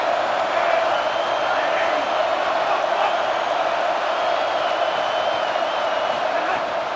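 Stadium crowd noise from EA Sports College Football, a dense, steady roar of many voices with faint whoops, loud and continuous throughout.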